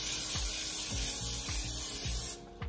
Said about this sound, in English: So I'm gonna spray this.